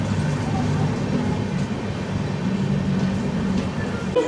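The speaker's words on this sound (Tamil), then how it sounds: "ட்ரெயின் கிளம்ப போகுங்க." An Indian passenger train, Chennai to Chengannur, rolls out of a station with a steady low rumble and clattering wheels, a goods train standing nearby, the sound continuous and fairly loud throughout.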